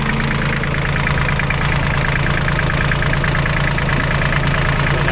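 A Kubota tractor diesel engine idles steadily and loudly, a continuous low rumble with a rhythmic knocking pulse throughout, no voices.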